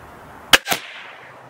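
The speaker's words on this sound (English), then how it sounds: "That was an arrow that left the barrel at about 408 feet per second" A PSE TAC15 crossbow upper on an AR-15 lower fires an arrow at about 408 feet per second: a sharp, loud snap with a second slap right behind it, then a brief decaying ring, with no talk.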